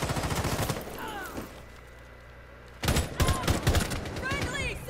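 Gunfire in a competitive shooter game, loud rapid bursts at the start and again in the second half, with quieter game ambience and some voices in between.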